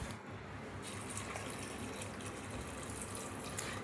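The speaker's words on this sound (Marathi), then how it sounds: "जास्त पाणी नाही टाकायचं." Water pours steadily from a tap into a pressure cooker over chopped vegetables for pav bhaji, a soft, even splashing stream close by.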